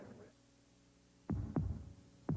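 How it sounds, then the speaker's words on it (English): A heartbeat sound effect in a 1988 Chevrolet television commercial: deep, muffled thumps in a lub-dub pair and then another beat over a faint low hum. "Listen to the heartbeat."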